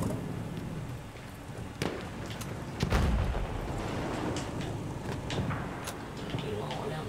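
Gunfire in the Battlefield 1 beta cracks out in scattered sharp shots and a heavier boom near the middle, over a rumbling battle backdrop while a player talks throughout.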